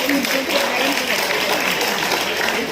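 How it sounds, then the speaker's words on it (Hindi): A dense, steady wash of audience applause fills an award ceremony celebrating women's strength at a society's national unity festival. It stays loud and continuous throughout, with voices mixed in. "हम इस नारी शक्ति के लिए एक बार जोर से ताली बजाएंगे"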